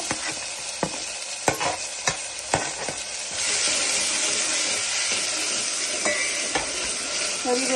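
Onions and tomato frying in a pan while being stirred: sharp spoon scrapes and taps first, then a loud, continuous sizzle with occasional stirring knocks, no voices.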